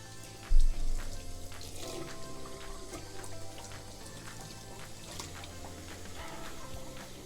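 Tap water running steadily over a salmon fillet being rinsed, a continuous close splashing stream with a brief thump of handling near the start, and no talking.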